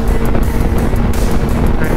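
A 2005 Honda CBR 600RR motorcycle cruising at about 80 mph, its engine drone buried in heavy, steady wind roar and rumble, continuous and loud throughout with no talking.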